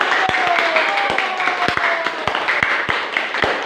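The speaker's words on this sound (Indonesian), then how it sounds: "tepuk tangan untuk kelompok 1" A classroom group claps for group 1 after its presentation, steady, separate claps from a small number of hands, with people talking throughout.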